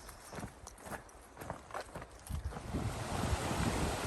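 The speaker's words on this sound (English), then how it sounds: "Last river crossing of the South Fork, Sun River." Rushing river water at a backpacking crossing of the South Fork Sun River in the Bob Marshall Wilderness, a broad churning hiss that swells louder partway through, with a few knocking steps early on.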